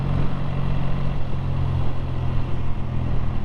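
A BSA A10 650 motorcycle engine idles steadily and smoothly nearby, a continuous low mechanical rumble with faint clatter and no speech.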